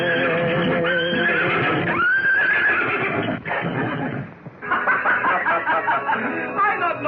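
A horse whinnies in a 1937 Western, a wavering, high neigh rising out of dense, busy background sound, with shorter snorting or whinnying bursts trailing after it.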